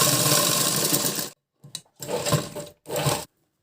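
A sewing machine stitches a blouse in three loud runs of rapid whirring, each stopping suddenly, with a short tick between the first and second bursts and no talking.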